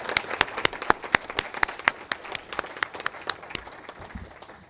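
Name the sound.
board meeting attendees applauding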